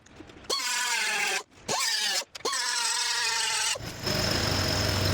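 An angle grinder cuts down spot welds on a rusted car door shell, its tool whining in three loud close bursts separated by brief drops, then a harsher grinding rasp at the end.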